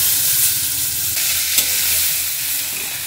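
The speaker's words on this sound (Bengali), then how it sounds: "এবার যে চালটা ম্যারিনেট করে রেখেছিলাম এটা দিয়ে ভালো করে ভাজবো" Marinated rice being fried and stirred in a pan with cinnamon, cardamom, cloves and bay leaf, a loud close sizzle with steady stirring scrapes.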